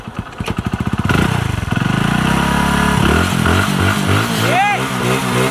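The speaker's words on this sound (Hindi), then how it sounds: "अब गाड़ी को स्टार्ट करें।" A motorcycle engine running on calcium carbide kicks over with rapid sputters, then catches and idles in a loud, close, throbbing chug, and a voice speaks briefly over it.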